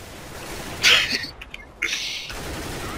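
CS:GO gunfire: two short, sharp bursts of shots ring out about a second apart, close and fairly loud against a quiet background.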